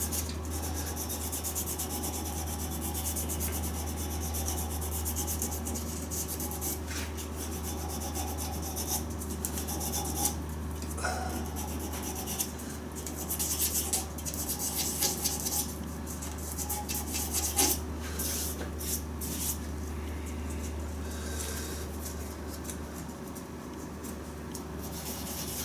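A resin shaving brush spinning on a lathe is sanded at the first grit, making a continuous dry, raspy rubbing over a low motor hum, with irregular bursts of harsher scratching and no talking.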